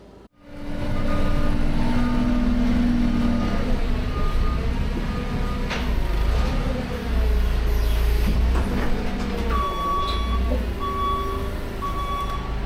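A forklift loads a Homestead Implements implement onto a truck trailer, its engine droning steadily at close range with intermittent reversing beeps and clanks of metal.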